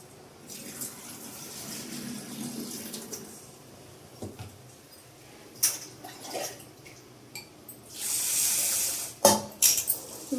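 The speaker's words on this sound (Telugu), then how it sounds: "ఇప్పుడు వీటిని శుభ్రంగా 2 సార్లు వాష్ చేసుకొని మనం నానబెట్టుకుందాము" Kota rice being washed twice in water for dosa batter, with sloshing, trickling and running-water sounds building to a louder gush near the end, close by and with no talk.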